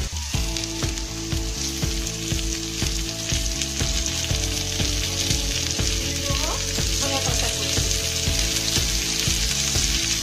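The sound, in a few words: onion and chopped tomato frying in a pan for dal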